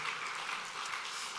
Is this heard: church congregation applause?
yes